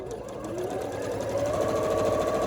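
A sewing machine stitches a seam in a fast, even run of needle clatter with a motor hum that rises slightly, close and continuous, with no talk.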